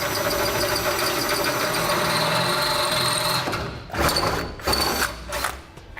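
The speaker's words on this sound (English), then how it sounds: "now that we have all our pilot holes drilled, we can drill through the cross member to the final size." A drill boring through the steel cross member of a 2017 Ram 3500 pickup, a steady high whining grind that breaks into short bursts and pauses near the end.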